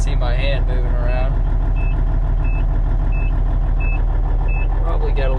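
A 1991 Peterbilt 379 truck idles with a low, steady diesel rumble while a reversing beeper sounds at regular intervals nearby, and a person speaks over it at the start and end.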